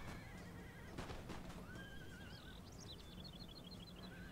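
Horses whinny and neigh several times in a Napoleon Total War battle as cavalry clash, with faint hoof clatter and a steady hum of distant fighting beneath, and no voices.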